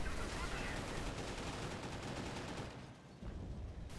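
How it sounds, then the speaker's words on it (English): Sustained gunfire from a World War II strategy game battle with MG teams and a Panzer IV, a dense continuous crackle of shots filling the whole clip at moderate level, easing briefly near the end. "Just focus fire on this MG."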